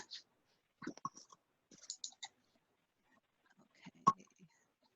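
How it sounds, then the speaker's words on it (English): A computer mouse clicks during an online conference call: a few faint, sharp clicks scattered irregularly through near-silence, with one crisper click near the end. "You're clicking on the share screen button at the bottom."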